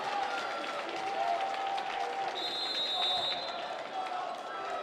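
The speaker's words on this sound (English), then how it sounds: "And this crowd is loud." Loud, steady crowd noise fills a boys varsity basketball game in a gym, a continuous roar with cheering and scattered shouts, a whistle-like tone briefly rising above it partway through.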